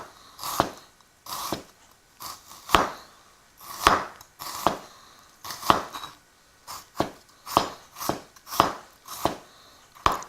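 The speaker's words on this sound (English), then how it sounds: "the method of slicing the onion, what you do is put your knuckles against your knife" A knife slices an onion on a cutting board in a Malaysian cooking class, about a dozen crisp, separate chops at an uneven, unhurried pace, close and clear.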